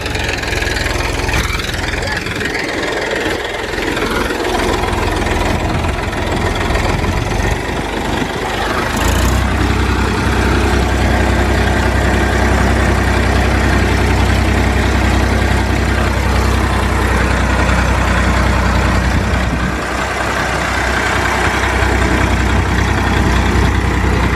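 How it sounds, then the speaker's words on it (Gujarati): A tractor engine runs loud and close during groundnut sowing in North Gujarat, a steady low rumble that idles and revs slightly, with a voice speaking over it at times. "ટ્રેક્ટર ચાલુ છે"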